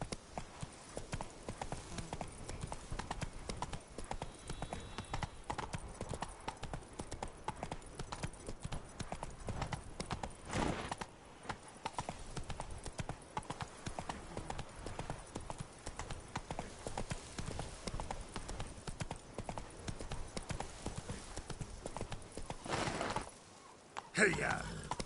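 Hooves of a horse galloping in a PS4 video game beat in a fast, steady clip-clop rhythm for most of the stretch, under faint background sound, with a brief break near the end.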